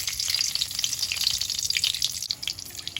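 Whole spices crackle and sizzle in hot oil and ghee in a kadai, a busy bright frying hiss with small pops, fairly close.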